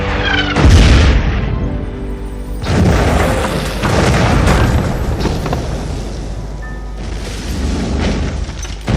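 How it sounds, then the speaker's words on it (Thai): A big booming explosion from a Thai Mama instant noodle advertisement hits hard near the start, followed by rolling rumbling blasts and a second surge of roaring debris noise, with no talking. "ค่ายระเบิดซะงั้น"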